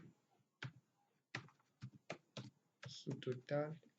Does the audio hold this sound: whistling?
no